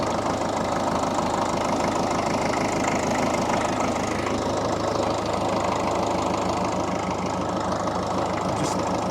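A tiller engine idles steadily in the French countryside, giving a loud, close, even chugging with a regular low pulse that runs without a break and with no talking.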